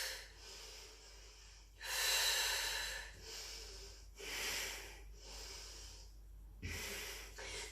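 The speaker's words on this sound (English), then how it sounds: "Inhale, exhale." Strong breaths drawn in and pushed out during a yogalates exercise, four or five loud, airy breaths close to the mic, each lasting about a second, with quiet gaps between them and no talking.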